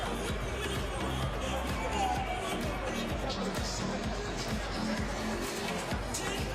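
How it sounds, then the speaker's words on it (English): Steady crowd hubbub fills a basketball arena as fans gather before a Basketball Champions League game between Dinamo and Strasbourg, a constant murmur of many voices with a commentator talking over it. "It's good crowd in tonight."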